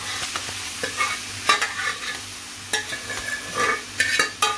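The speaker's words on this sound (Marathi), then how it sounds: "आता पहिले मी डाळ घालते, अशी उकळलेली आहे ती" Boiled lentils are stirred in a pan with a soft sizzle, the spoon scraping in irregular strokes; no voices.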